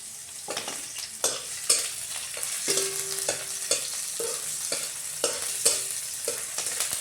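Okra sizzles in hot oil with garlic and chili, a steady frying hiss broken by repeated sharp scraping strokes of stirring, close and clear with no voices.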